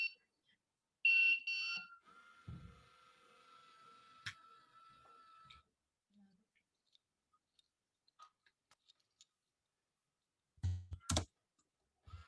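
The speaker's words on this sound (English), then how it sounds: "it makes a beep sound to show that the person has to lock the door" A Bolt IoT smart door lock security system sounds a short electronic beep reminding that the door is unlocked, one brief tone amid a long quiet stretch with faint clicks and a loud burst near the end.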